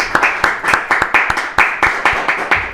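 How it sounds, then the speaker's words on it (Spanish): Clapping for Mauricio Maluf Massi, heard as a steady series of sharp, evenly spaced hand claps, fairly close and loud, with no voices over it. "un fuerte aplauso también al querido Mauricio Maluf Massi"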